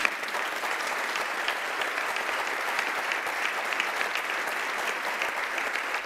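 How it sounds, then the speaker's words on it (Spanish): Steady, dense applause from an audience as an ovation for people who help families facing eviction, an even wash of many hands clapping without pause, heard at moderate distance with no voices standing out. "una ovación para ellos y el reconocimiento de todos nosotros"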